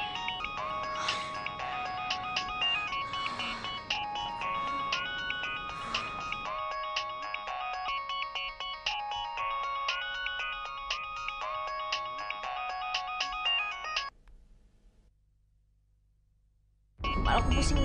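A mobile phone ringtone plays a bright repeating melody for several seconds, cuts off into quiet, then another loud sound bursts in at the end.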